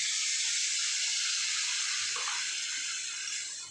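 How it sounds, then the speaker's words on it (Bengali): Water poured into a cooking pot of potato, pointed gourd and fish curry, a steady hissing splash that runs continuously and fades slightly at the end, close and with no talk. "এখন আমি এখানে জল দিলাম"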